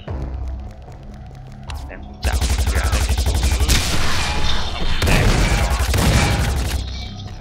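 Rapid bursts of automatic gunfire with heavy booms from the shooter game Dead Effect 2, loud and sustained in long volleys after a quieter opening, with brief pauses between bursts.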